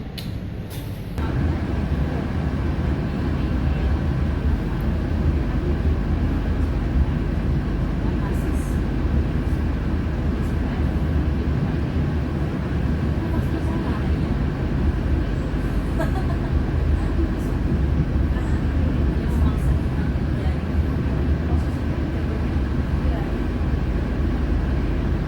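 Steady low rumble of the Parahyangan executive train just after leaving Cimahi station, a continuous near cabin drone holding evenly throughout with no clear voices.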